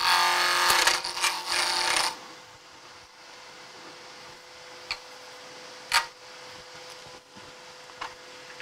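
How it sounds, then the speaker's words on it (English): A wood lathe takes a peeling cut on a small box blank, a loud rough scraping rasp for about two seconds before stopping, then quiet workshop hum with a few sharp taps and knocks. "You can remove a lot of material with a peeling cut on this."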